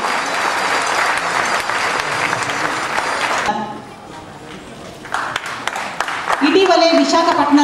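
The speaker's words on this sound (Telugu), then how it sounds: "మరొక్కసారి చప్పట్ల జడివానతో మనం ఈ సుందర దృశ్యాన్ని అభినందిద్దాము" An audience at a classical dance festival claps loudly and densely for a few seconds. The applause fades, and a voice then speaks over a public-address system in the hall.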